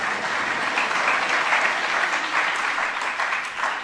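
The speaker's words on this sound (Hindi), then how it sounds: "बजा दो ताली बजा दो" A gathered audience at a religious discourse claps steadily in a sustained, even round of applause, dense and close throughout with no break.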